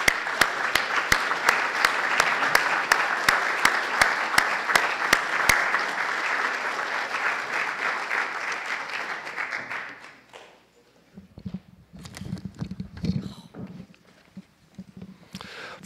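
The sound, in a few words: audience applause for panelists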